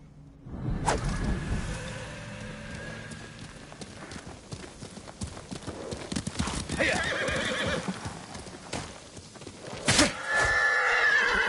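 A horse in Ghost of Tsushima gallops with rhythmic clip-clop hoofbeats and lets out loud whinnies, near and prominent, with a whoosh and brief voices among the hooves.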